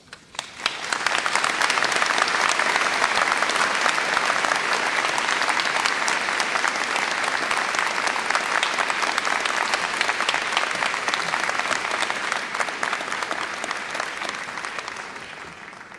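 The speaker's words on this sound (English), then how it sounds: "I think that applause is a little too tepid." Sustained applause from a large audience, steady and dense for most of the stretch before tapering off slightly at the end.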